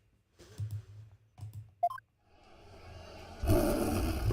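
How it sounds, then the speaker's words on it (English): A warbird in the Ace Attorney: Spirit of Justice video game lets out a sudden loud, lion-like roar that starts softly after a few short clicks and swells into a sustained, rough cry lasting over a second. "It's the cry of a local bird known as a warbird."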